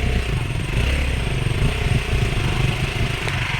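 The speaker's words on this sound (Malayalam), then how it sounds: "R15 ഓഫ് റോഡ് കയറുന്ന കേട്ടാ" A Yamaha R15 motorcycle engine chugs loudly and close up, throbbing with a pulsing rhythm and slight pitch wavering as it labors up a steep off-road hill trail.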